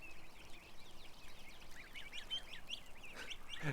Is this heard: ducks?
yes